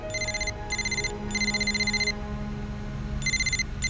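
A mobile phone rings inside a school in an animated series, sounding in repeated bright electronic trilling bursts with short gaps between them over a low background murmur, with no one speaking.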